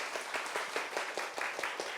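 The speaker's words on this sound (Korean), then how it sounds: "박수 부탁드리겠습니다" An audience claps after a lecture on peace on the Korean peninsula. The applause is soft and distant, with steady rhythmic clapping.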